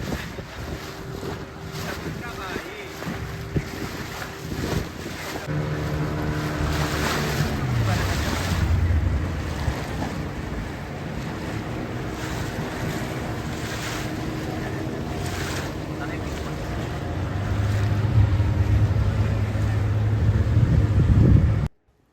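A crowded boat ride on the water near a mangrove forest in Pondicherry, with a droning engine, wind buffeting the microphone and water splashing against the hull, steady and loud throughout.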